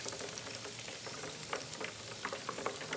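Smelt fish frying in a pan while cooking cocoyam dishes, with a steady quiet sizzle and scattered light crackles and pops throughout.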